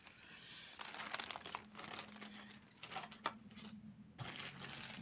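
Small paper packets crinkle and rustle as they are handled up close, in irregular bursts of crackling with brief pauses between.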